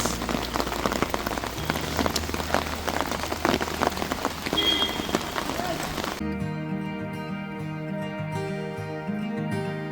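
Rain falling steadily on surfaces outdoors along a hill route near Moor Point in Kodaikanal, a dense continuous patter for about six seconds before the sound abruptly drops to a quieter, tonal background.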